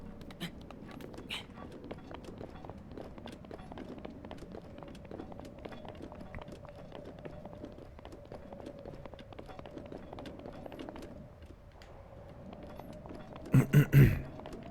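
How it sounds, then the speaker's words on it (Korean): Footsteps of a character walking through Zelda: Breath of the Wild, a steady soft patter of steps that runs for most of the time with a low ambient hum beneath, ending in a few louder thumps. "아 발자국 소리 너무 좋다"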